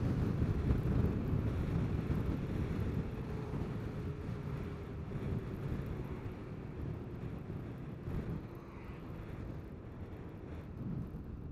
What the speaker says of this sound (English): Kind of an eerie feeling when you feel those wind gusts hitting you.